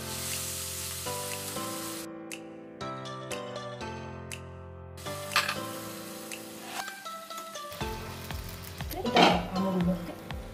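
Water poured into a fried, oil-releasing spice paste in a pan for a Bengali mango and shol fish curry, producing a sudden hissing, spattering burst near the end under background music.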